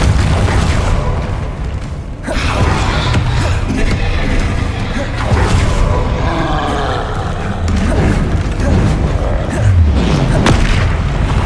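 Spell impacts and explosions from the Hogwarts Legacy video game, with ice, force and blasting spells fired in combat, give heavy booming bursts and roaring rumbles in quick succession, loud and continuous, dipping briefly once before the barrage resumes.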